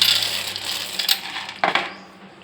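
Nuts poured into a pan of sugar syrup land with a rattling clatter, a bright pouring rush at first, then two sharp clinking bursts fading out, close and without speech.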